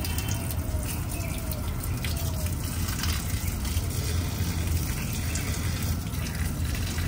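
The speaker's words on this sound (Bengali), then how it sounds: "এগুলো একটু জল দিয়ে দিই।" Water pouring steadily onto potted adenium plants on a roof terrace, a continuous close gushing splash with no pauses and no talking.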